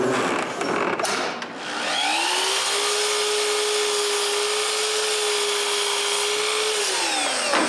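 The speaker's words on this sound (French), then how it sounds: "Je perce des trous pour des mortaises tout de suite" A drill bores mortise holes in wood while a bamboo bicycle workbench is being built. After a brief clatter, the motor spins up to a steady whine for several seconds, then winds down. It sounds near and moderately loud.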